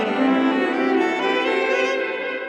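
A violin run through a homemade custom delay effect in Loopy Pro produces a thick, smeared wash of overlapping sustained notes, steady and close, with echoes blending into one continuous tone and no voices.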